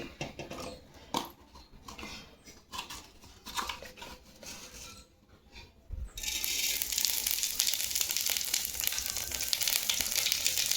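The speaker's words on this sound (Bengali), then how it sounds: "এবার দিয়ে দেবো এর মধ্যে জিরে ফোড়ন" Cumin seeds are dropped into hot oil over lowered gas heat for tempering, with quiet clinks and shuffling followed by a sudden loud, steady crackling sizzle that carries on alone.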